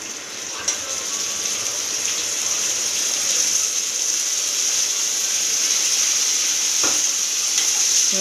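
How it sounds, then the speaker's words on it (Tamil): Ginger, garlic, tomato and onion paste sautéing for mutton curry, a steady broadband sizzle throughout with a couple of brief clinks of a spoon, no talking. "இந்த பேஸ்ட்டு போட்டு நம்ம நல்லா வதக்க போகிறோம்"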